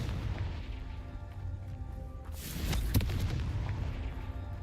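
The Confringo fire spell explodes in Hogwarts Legacy, a sudden booming blast with a sharp crack near the three-second mark over a steady rumbling game backdrop.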